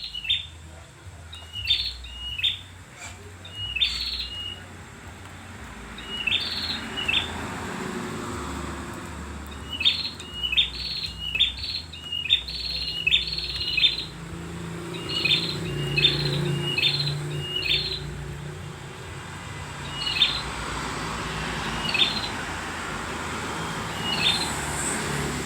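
Repeated sharp, high chirping calls from a perenjak (prinia) bird during bird trapping, coming in short bursts over about 25 seconds against a low background hum like distant traffic.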